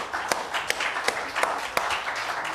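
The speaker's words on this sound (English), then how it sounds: "Give him a hand clap this morning." A church congregation claps in a steady, fairly quick rhythm of sharp hand claps over a soft wash of crowd noise, lasting a couple of seconds.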